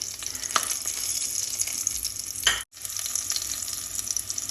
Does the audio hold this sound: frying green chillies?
yes